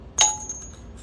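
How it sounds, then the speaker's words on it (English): A single bright notification-style bell ding rings out once, sharp at first and then a thin, high ring that fades over about a second, heard alone with no talk. "Hit the bell. Ding. Ring that bell."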